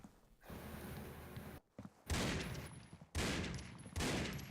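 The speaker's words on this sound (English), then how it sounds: "Shots fired through the crates." Bursts of gunfire fired through wooden crates during a two-versus-two round of a competitive shooter game's pistol tournament grand final, several loud volleys separated by brief silences.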